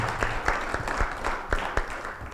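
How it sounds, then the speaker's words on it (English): Applause from a conference audience during a panel discussion in Estonia, a dense wash of clapping with individual claps standing out, moderately close and steady for a couple of seconds. "Big applause."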